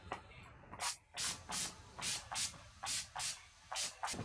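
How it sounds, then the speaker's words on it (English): Repeated short bursts of Urban Decay All Night makeup setting spray hissing close by, about nine quick spritzes in a steady rhythm with brief pauses between them. "take some Urban Decay All Night Setting Spray"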